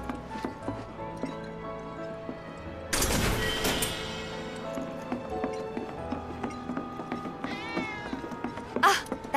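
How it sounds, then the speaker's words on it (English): Cat meowing inside the video game Final Fantasy VII Remake, a few short meows heard among game sounds, hoof-like clopping footsteps and a sudden loud swoosh, moderately near with no talking. "Ah, that was definitely a cat."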